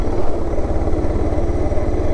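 A motorcycle engine runs loud and close while riding, a steady rapid low-pitched pulsing throb with a rattly edge that continues throughout, and no voices are heard.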